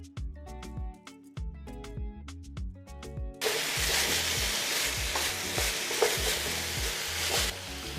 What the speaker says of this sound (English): Now we're going to add the boniato,